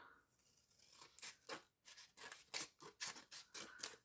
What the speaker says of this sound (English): Get my big scissors out. And let's just cut that down.